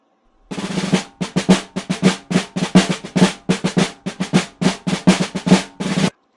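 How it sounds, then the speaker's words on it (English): A snare drum is struck in a steady series of sharp, close hits, each with a rattling spring buzz. No voices are heard, and the beats follow one another quickly at a fairly even pace. "That is known as a snare drum."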